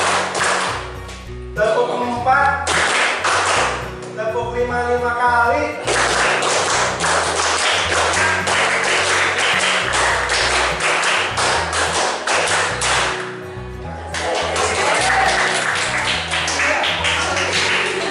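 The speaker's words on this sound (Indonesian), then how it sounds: "Tepuk lima kali." A classroom group of schoolchildren claps in time, sharp clustered taps repeating in short bursts over a steady backing beat, fairly loud and close.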